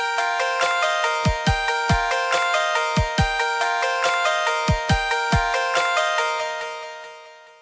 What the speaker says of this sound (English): See how it sounds with our drum pattern.